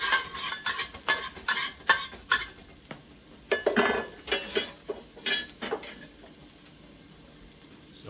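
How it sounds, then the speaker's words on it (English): Chopped ginger and garlic stir-fried in a restaurant wok, with rhythmic bursts of metal spatula scraping and clanking over a light sizzle, the strokes fading toward the end, no speech. "I put about a tablespoon of chopped ginger and chopped garlic. Give that a quick stir fry"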